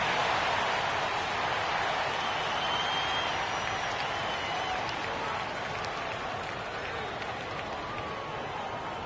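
Steady applause from a large crowd fills an NBA arena during a Lakers–Jazz timeout, continuous and loud throughout, with a faint murmur of voices underneath.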